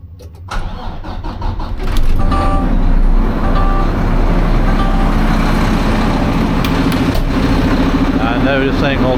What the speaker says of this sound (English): We're gonna get in the old Mack truck here.